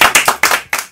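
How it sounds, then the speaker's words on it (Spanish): A few close, sharp hand claps in a quick uneven rhythm, about six strikes in a second, loud and dry in a small studio session, alone without voices. "Un fuerte aplauso."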